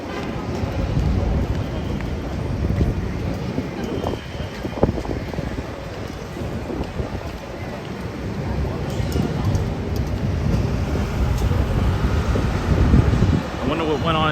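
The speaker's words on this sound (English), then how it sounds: "it's very windy now." Strong night wind in Midtown Manhattan near Hudson Yards, roaring as a continuous buffeting gust noise against the microphone with low rumbling surges and faint city traffic beneath.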